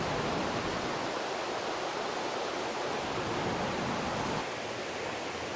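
A mountain stream in Maui, Hawaii flows steadily, a dense, loud rush of water holding an even level throughout with a slight drop near the end.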